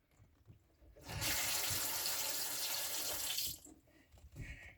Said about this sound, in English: Water heater still filling up, working air out of the line.